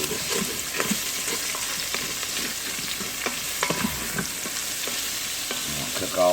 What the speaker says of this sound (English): I'll cook all those together and let them become translucent